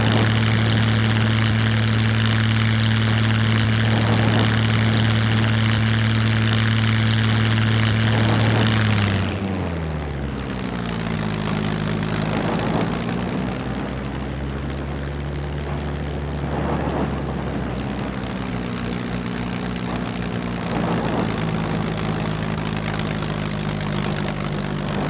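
A damaged propeller plane in the video game Scum drones loudly and steadily, then its engine pitch drops and wavers into a lower, fluctuating hum that carries on to the end.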